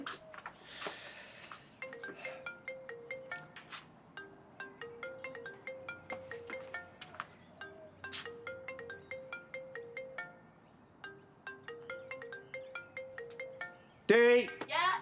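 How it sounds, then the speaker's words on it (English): A telephone ringtone plays as a repeating electronic melody, steady and fairly loud with brief pauses between phrases, in a domestic drama scene with no talking during the ringing. "Phone's ringing."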